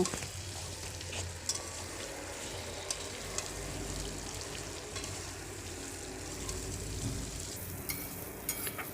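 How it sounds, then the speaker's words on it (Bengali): Fried potatoes stir-frying in oil in a pan for Bengali egg curry, a steady close sizzle with scattered scraping stirs throughout, no talking. "দিয়ে এটাকে আবার কয়েক মিনিট ধরে ভালো করে কষিয়ে নেব"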